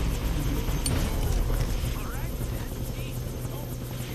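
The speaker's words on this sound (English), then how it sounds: "Can't let them put Ollie in the chopper." Helicopter in the video game Far Cry 3 gives a loud, continuous rotor thrum with rhythmic chopping throughout, joined by scattered game sounds.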